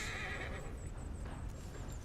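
Horse whinnying in Red Dead Redemption 2, a drawn-out neigh with clip-clopping hooves running under it, steady and fairly close throughout.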